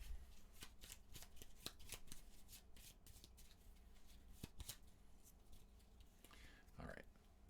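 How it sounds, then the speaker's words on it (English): Board game artifact cards shuffled by hand in a quiet room, a series of quick riffling bursts repeating through the clip, close and crisp, with a brief rustle near the end. "We're then going to shuffle up the artifacts."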